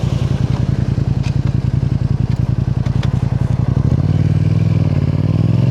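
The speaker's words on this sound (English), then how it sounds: "even at low speeds, the Quickshifter works really good, and down too, even at low speeds" Yamaha MT-07 motorcycle engine pulsing loudly and steadily from the rider's position, with quick gear changes through a quickshifter marked by brief shifts in the rhythmic throb and wind rumble.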